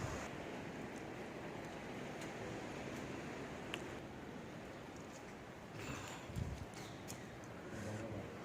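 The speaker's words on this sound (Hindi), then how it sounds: "इस खिड़की के बाहर से भी समुद्र की लहरों की आवाज़ आ रही है।" Steady rushing roar of ocean waves beyond a window, a broad continuous wash at moderate distance with a few faint knocks and bumps nearby, no speech.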